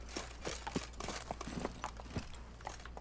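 Horse hooves on the ground in The Witcher 3, quiet rapid clip-clop steps in an uneven rhythm, close but faint, with no talk over them.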